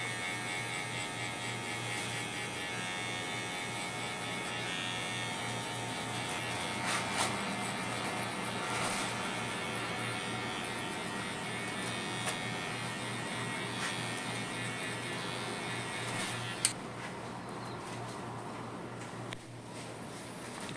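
An electric hair clipper buzzes steadily and close up for the whole stretch while cutting a high fade haircut, its hum holding an even level with only a few brief ticks and no talking.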